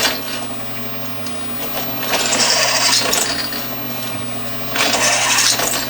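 A power drill grinds into a Corvair metal flywheel in two bursts of bright, harsh whirring over a low steady hum, with a quieter stretch between them.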